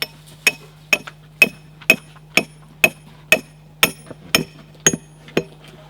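A hammer strikes a camping light's ground anchor, about eleven evenly spaced sharp metallic taps, loud and close, over a faint steady hum.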